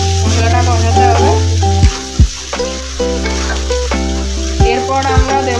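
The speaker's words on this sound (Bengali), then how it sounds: "মশলাটা কষাতে হবে।" Spiced masala for a prawn dish is fried and stirred in a pan, a loud steady sizzle with occasional scrapes of the utensil and a strong tonal hum running underneath, no speech.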